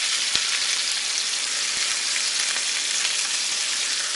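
Stuffed tofu with pork and shrimp sizzles and fries steadily in hot oil in a wok, a dense, even crackle with a few sharper pops and no talking.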